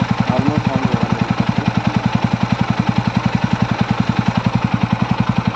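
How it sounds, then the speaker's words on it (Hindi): A TVS Ronin 225 motorcycle engine runs at a steady idle after an engine noise repair, an even rapid pulsing throb held close and loud throughout, with no talking. "आई होप ये तो नॉर्मल साउंड होगा इंजन का"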